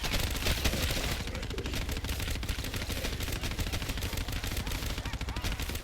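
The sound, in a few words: gunfire shooting zombies in video game Black Ops 3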